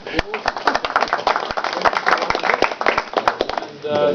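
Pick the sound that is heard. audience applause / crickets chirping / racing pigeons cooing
audience applause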